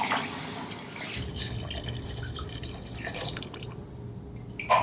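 Water from a can poured into a pot of coconut milk for Burmese khow suey, a steady close trickle and splash heard alone for about five seconds.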